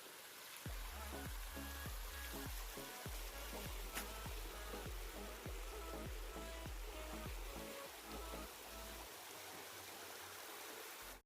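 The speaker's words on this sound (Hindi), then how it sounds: "आगे से वहाँ से गिरते पानी झरना के रूप में।" The Siddhkhol waterfall near Balar dam pours after rain, a steady rushing roar of falling water heard from nearby at a low level, with some faint voice-like sounds mixed in.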